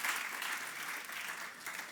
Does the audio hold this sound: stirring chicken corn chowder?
no